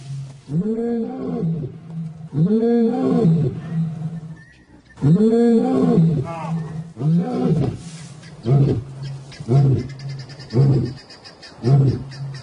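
Repeated deep, throaty roars from African lions, loud and close, in a rhythmic series that tapers into shorter grunting calls.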